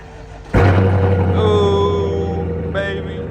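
A Chevrolet Silverado pre-runner truck engine cranks and fires, then settles into a loud, close, rumbling idle with a brief rev near the end.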